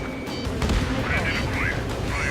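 Fighter jet missile launch in Ace Combat 7, a sharp burst with rushing roar amid gunfire-like cracks and engine noise, with radio voices talking over it.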